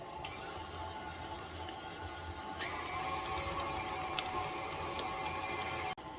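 Electric mixer creaming butter and sugar for an Italian cream cake, a steady mechanical whir with faint ticking and occasional small knocks, continuous and moderately close, ending abruptly.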